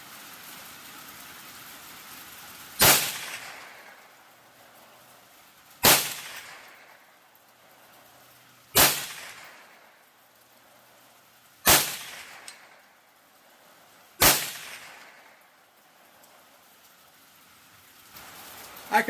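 .22 WMR Federal small-game jacketed hollow point rounds, 50 grain, fired from a rifle: five loud, sharp single shots spaced roughly three seconds apart, each with a short ringing decay, with quiet gaps between.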